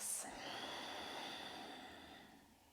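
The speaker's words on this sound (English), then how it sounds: "Taking a few nice, deep, conscious breaths." One long, slow, deep conscious breath during yoga, with airy breathing through the nose and mouth that rises and gently fades, close and soft.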